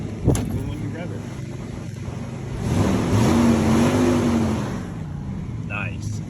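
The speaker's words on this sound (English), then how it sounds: "And the engine sounds, of course, but even when you rev it" A 1987 GMC S15 pickup with its catalytic converter deleted revs up near the mic, the engine note swelling and holding for a couple of seconds before settling back to idle.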